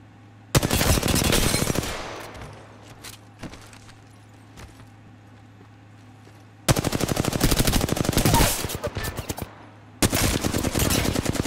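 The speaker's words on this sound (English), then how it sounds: "I'm taking shots." Automatic weapon fire in Apex Legends, sustained loud rapid bursts at the start and again after a pause with scattered single shots, ending in another close, dense volley.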